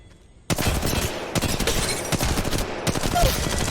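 Rapid automatic gunfire from the Apex Legends Mobile video game rattles out in a continuous loud burst, with dense repeated shots and only tiny gaps, after a quiet half-second start.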